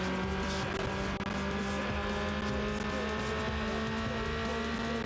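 Car engine roaring at speed with tire squeal and skidding while crashing around city streets in Need for Speed: Underground, loud and continuous throughout.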